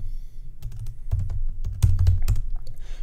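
Steady clacking of keys on a computer keyboard while code is typed, close and distinct, with uneven bursts of keystrokes over a low background hum and no talking.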